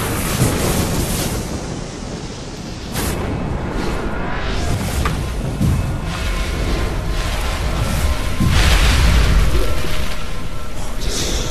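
A lightning spell cast in the VR game Waltz of the Wizard gives loud crackling booms and rumbles, with sharp bursts repeating across the stretch, heavier toward the end.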